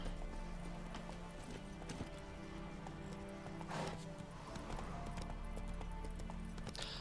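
Roach the horse gallops through The Witcher 3, steady hoofbeats drumming over game music and ambient noise for the whole stretch, with no one talking.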